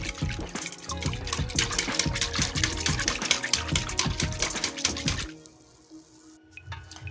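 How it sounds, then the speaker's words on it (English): Milk and vanilla extract are whisked together in a bowl for funnel cake batter, making quick, steady, close sloshing and clinking strokes that stop near the end and give way to quiet. "we're just going to whisk that together for 15 to 20 seconds"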